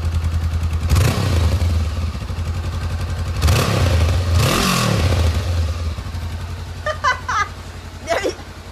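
A Honda CBR500R on its stock exhaust idles close by and is blipped in a few short revs, with clatter and faint voices in the background toward the end.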